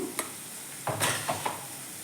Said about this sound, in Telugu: ఆనియన్ కొంచెం ఫ్రై అయ్యింది కదండి. ఇప్పుడు అర స్పూను పసుపు వేద్దాము.